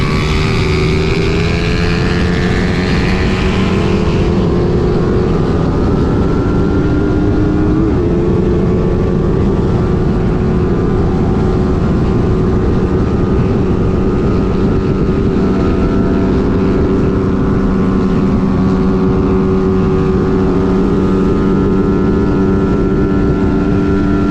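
A Rusi Flash underbone motorcycle and a Suzuki Raider FI race side by side, a loud continuous high-revving engine drone that holds steady for the whole stretch, with gear shifts faintly marked.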